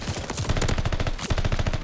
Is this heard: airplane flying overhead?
no